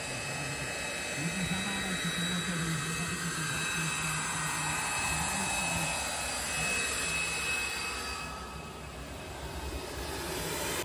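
An Aero L-39 Albatros jet at an air show roars steadily with a continuous engine drone and a high whine, loud and sustained before easing slightly toward the end.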